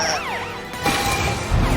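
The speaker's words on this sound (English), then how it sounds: "Use your sirens, Super Truck!" Cartoon truck siren from a kids' animated show, rising and falling wails sounding loud and close, followed by crashing impacts and thumps toward the end.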